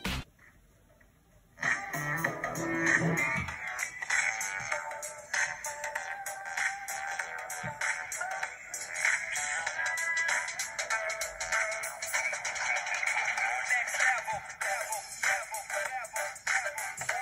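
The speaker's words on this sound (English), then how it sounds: "So let me play you guys some music here really quick." Lucyd speaker glasses play music at full volume, a bright, tinny, continuous track that starts abruptly after a brief quiet moment and carries on loud and steady with no talking.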